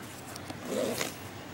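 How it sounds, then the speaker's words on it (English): A single short zipper pull on the carrying case of an axe, heard up close and alone as the zip is drawn open in one quick stroke. "I like this how this zipper opens, because you just pull this little strap here,"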